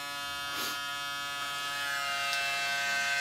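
A Braun Series 6 shaver cleaning station runs with a steady, fairly quiet electric hum and buzz, faint and continuous throughout.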